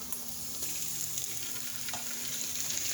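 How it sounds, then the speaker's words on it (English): Minced garlic sizzles steadily in a hot frying pan, a close, even crackle with faint stirring and no voices. "Now that does have water in it, so it's going to sizzle a little bit."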